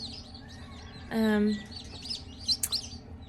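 Small bantam-sized chicks chirping, one loud sustained peep followed by a few short high tweets, close by in a quiet setting.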